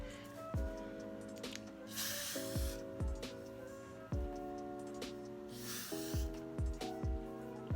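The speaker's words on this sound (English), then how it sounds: "And then I spray the spray on it." Got2b Glued hair spray is sprayed onto a wig in several short hissing bursts, spaced irregularly among soft clicks and rattles from handling the can.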